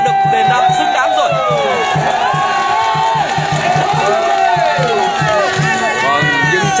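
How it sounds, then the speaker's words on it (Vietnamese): Spectators at a volleyball final in Vietnam, a crowd of over 10,000, applaud and cheer in a steady, loud, continuous roar of clapping, shouts and whistles that runs the whole stretch without a break. "những tràng vỗ tay không ngớt của quý vị khán giả"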